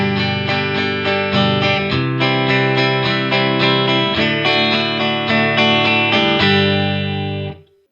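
Guitar chords strummed in a typical strumming pattern, with steady, loud, processed-sounding strokes and several chord changes, ringing out alone and ending in a fading tail.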